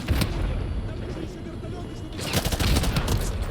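Gunfire in Call of Duty: Modern Warfare 2 Remastered, a video game, rattles in dense bursts that swell toward the end, with a voice talking over it.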